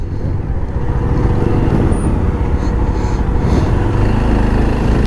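Road traffic on a road near Manali makes a continuous loud rumble of passing car and vehicle engines close by, with steady broadband road noise and no clear talk.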